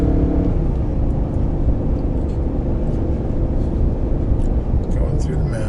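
Loud, steady engine drone of a Nissan Titan Pro4X pickup held near 4,000 RPM while towing a Jeep uphill on a mountain highway, with road rumble filling the cab.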